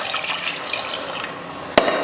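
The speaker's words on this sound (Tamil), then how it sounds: "இப்போ தண்ணி சேர்த்துடலாம்." Water poured from a vessel into a pressure cooker of simmering mutton curry gives a steady close splashing wash, ending with a brief sharp clink near the close.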